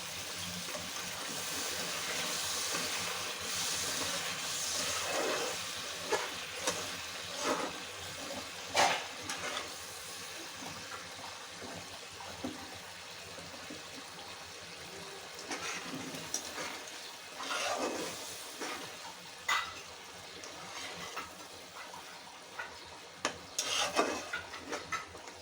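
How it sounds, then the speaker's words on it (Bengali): Egg with spices frying in a pan while being stirred, a steady broadband sizzle with scattered scraping and clinking spoon strokes throughout, close and moderately loud with no talking. "আবার একটু ভালো করে নেড়ে নেব।"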